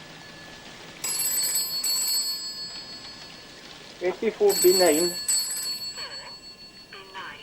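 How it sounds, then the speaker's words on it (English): Old-fashioned telephone bell ringing in bursts, two loud trilling rings separated by a pause, with someone speaking briefly between them. "It's the phone."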